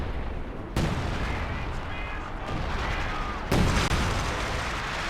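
Artillery bombardment in Company of Heroes 2, a wartime strategy video game: dense rumbling gunfire and booms fill the mix, with sharp blasts around the one- and three-and-a-half-second marks over continuous battle noise.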